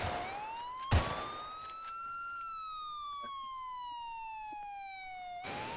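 A wailing ambulance siren in a video game sweeps up and down in long smooth tones, loud and clear for several seconds, cut by one sharp burst of gunfire near the start.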